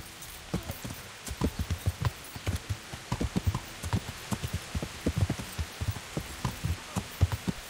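Steady clip-clop of a horse's hooves walking in Kingdom Come: Deliverance, the even, close hoofbeats falling in a rhythmic pattern over a soft rain-like background hiss.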